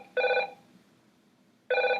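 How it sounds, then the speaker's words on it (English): A telephone bell rings twice in short bursts about a second and a half apart, fairly loud and close, with a quiet room hum between rings and no talking. "I'm sorry about the phone ringing."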